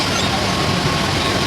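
A commuter train ride near Chembur, Mumbai, heard from inside the carriage as a steady, loud broadband rumble of wheels and rail noise that holds evenly throughout, with no talk.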